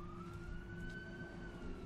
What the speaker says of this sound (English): Do I hear sirens?